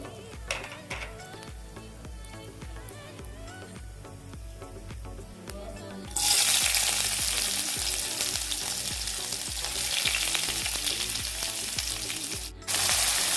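Onions tipped into a hot pan with curry leaves for a drumstick tomato curry: a quieter stretch of cooking, then a sudden loud, dense sizzle that holds steady near the mic, with a brief dip before the end.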